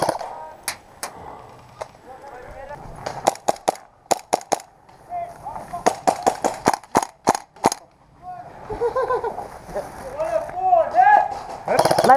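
Gunfire in a war video game: many sharp, separate shots pop out in uneven clusters, some in quick runs, while voices talk over them.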